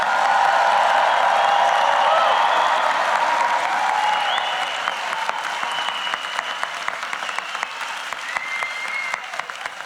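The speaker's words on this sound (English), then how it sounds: "please give a big round of applause for the Rutgers University School of Arts and Sciences class of" A large convocation audience applauds the graduating class, loud sustained clapping with some cheering filling the hall for the whole stretch, gradually easing slightly toward the end.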